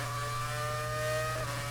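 Classic-era Formula 1 car engine revving in the racing video game F1 2019, a steady high-pitched sustained whine, loud and alone, held throughout.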